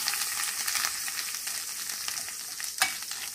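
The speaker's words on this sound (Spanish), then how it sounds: "Vamos a dejar que se cocine junto con el tocino para que junte su sabor." Frijoles charros beans cook with bacon in a pan over medium heat, giving a steady broadband sizzle with soft stirring scrapes and one sharp clink near the end.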